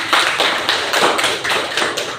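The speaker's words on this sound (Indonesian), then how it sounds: "Tepuk tangan dulu sekali lagi." A school class claps in a quick, rhythmic pattern of bursts, close and fairly loud, with no talking.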